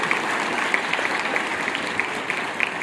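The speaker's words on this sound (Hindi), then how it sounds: "तो एक बार जोरदार तालियां सभी शिक्षकों के लिए" Loud, sustained applause for teachers at a school Teachers Day celebration, many hands clapping in a dense, continuous wash with scattered sharper claps standing out near the front.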